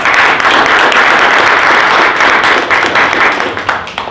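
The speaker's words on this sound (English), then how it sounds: "So let's give Tiffany a big round of applause." Loud, close, dense applause from a sales meeting audience greets speaker Tiffany Banks, a continuous wash of many hands clapping that holds steady before tapering off.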